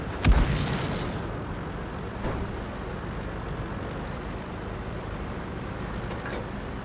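Tank cannon fire in a World of Tanks-style battle game: a sharp, heavy boom at the start, then a second fainter thud near two seconds and another near six, over a steady low rumble of engine and battlefield ambience.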